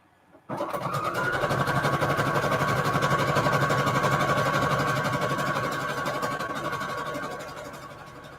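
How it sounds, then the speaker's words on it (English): A sewing machine stitching a zigzag stitch on fabric, a close, steady rapid mechanical whir that starts suddenly and runs for several seconds before slowing slightly at the end, with no talking. "I'm just going to use the regular standard zigzag stitch here"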